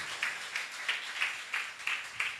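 Rhythmic clapping from an audience at a church sermon, steady beats about three per second, moderately loud with a faint voice underneath.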